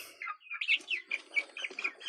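Chickens clucking and chirping in a larger new coop, a steady run of short close calls rising and falling over about two seconds, no talking.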